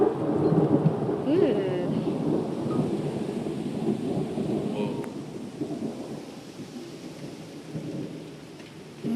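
A big thunderstorm with steady rain and rolling thunder rumbling throughout, fairly close and continuous, with a brief exclamation from a person near the start.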